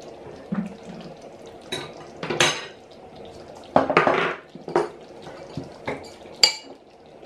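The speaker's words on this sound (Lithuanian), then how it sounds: "Išmaišom gerai." A spoon stirs thick beetroot caviar in a pot, giving irregular metallic clinks and scrapes against the sides, with a few sharper knocks between quieter moments.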